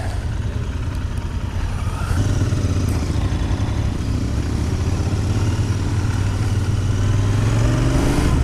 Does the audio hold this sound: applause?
no